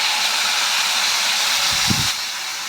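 Onion paste sizzling in hot oil: a loud, steady, airy hiss runs throughout, with a brief low thump near the end as the hiss eases slightly.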